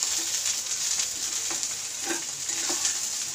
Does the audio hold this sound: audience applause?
no